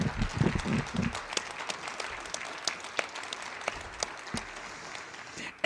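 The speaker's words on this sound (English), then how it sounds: "let's have one more round of applause for our Pinnacle recipients this evening" A crowd at the Pinnacle Awards ceremony applauds its award recipients in a steady wash of clapping that stays even and fairly close for the whole stretch, with no voices over it.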